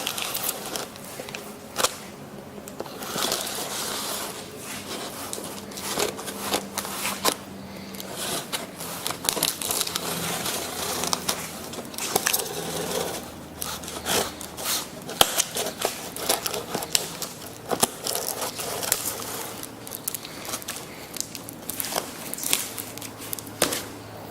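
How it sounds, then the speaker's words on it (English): Safety scissors snip and crunch through stiff packaging around a new black car spoiler, with repeated close clicks, crackles and rustles in an irregular rhythm over a steady background hum, with no one talking. "Got my safety scissors."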